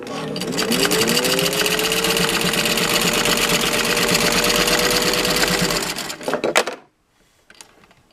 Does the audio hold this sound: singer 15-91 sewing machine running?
yes